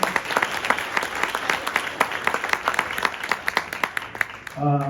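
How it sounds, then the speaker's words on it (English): Guests at a girls soccer banquet applaud the scholar athletes, a modest crowd clapping with distinct individual claps audible throughout, ending as a voice resumes speaking. "give a round of applause to all our scholar athletes"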